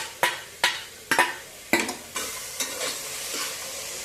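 A utensil stirs chopped tomato in a frying pan while cooking pulao, giving a series of close scraping strokes over a soft sizzle and then a steadier frying hiss.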